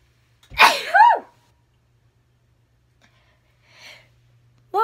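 A person gives one loud, forceful sneeze close by, followed by a fainter breathy sound and the start of another sneeze, with quiet room tone in between.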